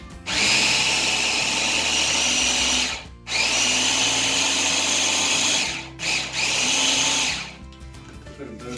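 A food processor or quick chopper purees homemade liver pâté with a loud steady motor whir in three bursts, each running a few seconds with brief stops between them; no voices are heard.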